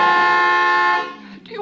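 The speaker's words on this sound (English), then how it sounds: "What are you honking now for?" A steady, loud car horn blares for about a second on a winding road with treacherous curves, then cuts off into quieter noise.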